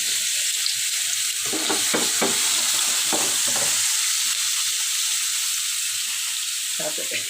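Chopped onion and garlic fry in hot oil with a steady, dense sizzle throughout, broken by occasional stirring scrapes and clinks in the pan.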